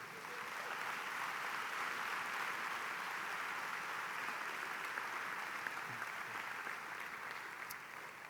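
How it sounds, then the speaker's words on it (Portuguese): Steady applause from a church congregation, sustained at even level throughout, fairly distant and diffuse with no voices over it. "Você pode aplaudir Jesus?"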